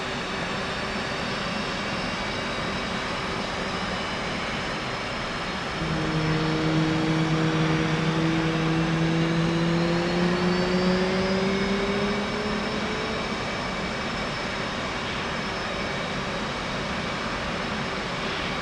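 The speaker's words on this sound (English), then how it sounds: "move the left throttle from off to idle by pressing right Alt Home. This will add fuel to the engine and start the igniters." F/A-18 jet engine spooling up during a cold start in a flight simulator game, a steady whine rising in pitch from about six seconds with a low rumble underneath, heard alone and moderately loud.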